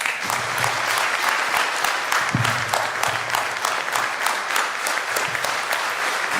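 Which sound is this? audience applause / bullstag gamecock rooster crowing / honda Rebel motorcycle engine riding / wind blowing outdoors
audience applause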